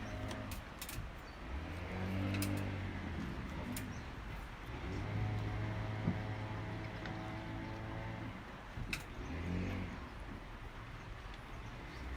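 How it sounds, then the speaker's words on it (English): Small skiff engines rev and drone at a distance in a cove, rising and falling over a constant low hum, with scattered faint knocks and splashes. "There's a lot of skiffs revving"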